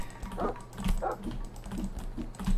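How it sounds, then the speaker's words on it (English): Dogs barking in the survival game The Final Station, a few short barks and yelps at irregular intervals, moderately close over a low ambient hum, with no speech. "Oh, there's still dogs alive, if I could trust that sound."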